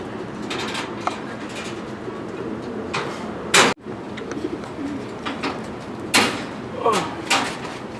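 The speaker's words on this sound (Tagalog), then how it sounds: "Painom na tayo ng mga kalapate." Pigeons coo in a loft in repeated low, soft calls with people talking nearby; a sharp knock or door bang cuts in midway.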